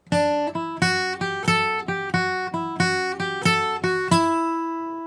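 Acoustic guitar playing a bluegrass riff in C, a bright run of about a dozen plucked notes in even rhythm, close and alone, ending on a ringing final note.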